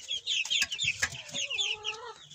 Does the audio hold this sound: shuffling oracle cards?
no